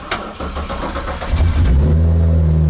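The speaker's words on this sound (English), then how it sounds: "now let's start the car" A BMW car with an N54 engine, fitted with a tapped intake manifold and drilled fuel rail, cranks and fires, then settles into a loud, steady rumble with a rev swell, heard close and alone.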